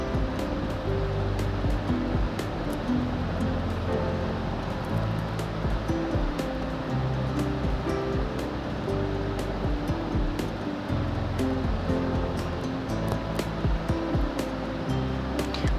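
Soya chunks and potatoes fry in oil in a pan for a vegetarian soya keema, giving a loud, steady sizzle and crackle that runs unbroken throughout with no voices.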